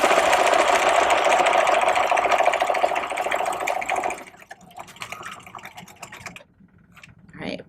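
An industrial buttonhole sewing machine stitches steadily with a fast, even mechanical chatter for about four seconds, then slows and stops into quieter clicks and mechanism noises, close up.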